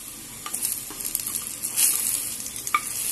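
Ghee dropped into browned fried onion for Egyptian bessara sizzles softly in the pan, with a low steady frying hiss broken by small crackles and pops.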